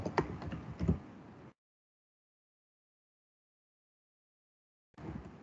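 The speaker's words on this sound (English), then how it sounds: "Can you see my typing?" Computer keyboard typing during an online electronics lesson, a short burst of clustered key clicks that stops abruptly, followed by silence and a brief return of tapping at the end.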